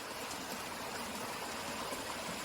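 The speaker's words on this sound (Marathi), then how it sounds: "ते सर्व पाणी या ठिकाणी वाहत येतं" Clear stream water flows in a continuous, even rush with no breaks, like a brook or small channel heard up close in rainy weather. No voices are heard.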